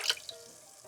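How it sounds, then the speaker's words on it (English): Tap water pours into a pot of uncooked Japanese rice for New Year nanakusa porridge, a brief splash up front that settles into a soft, close trickle. "pour 1 liter of water, about 4 US cup"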